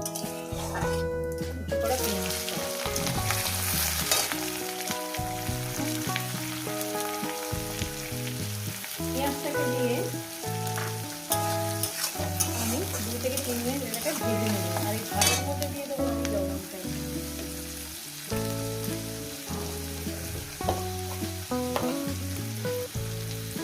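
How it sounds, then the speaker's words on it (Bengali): Cumin seeds crackle and sizzle in hot oil for a Bengali spinach curry, a loud, continuous close-up frying hiss broken by occasional stirring scrapes. "সামান্য পরিমাণে জিরে জিরে ফোড়ন দিয়ে দিলাম জিরেটা কয়েক সেকেন্ড একটু ভেজে নেব"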